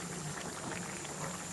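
Chicken fry pieces simmer in a pan, giving a steady low bubbling and gentle sizzle that carries on unbroken at a soft level, with no talk.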